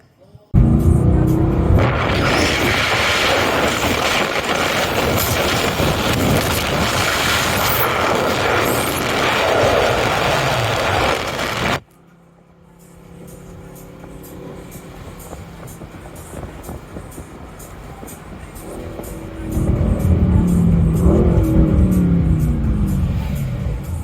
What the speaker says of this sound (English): I'll do a bit of a video in a minute as well of us driving